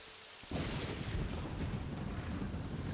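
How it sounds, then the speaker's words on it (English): Steady rain hisses loudly and evenly in The Elder Scrolls III: Morrowind, starting abruptly after a short quiet moment and continuing as a dense, unbroken wash with a low rumbling undertone. "Is it seriously raining again?"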